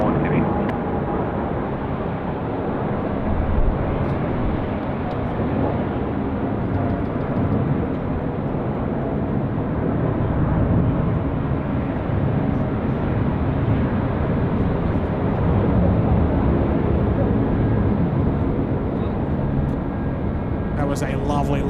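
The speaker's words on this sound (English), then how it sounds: "That was a lovely long takeoff roll there from the 75." Aircraft takeoff roll at Sydney Airport: a loud, continuous jet engine roar holds steady for the whole stretch, broad and rumbling, with a voice talking faintly beneath it.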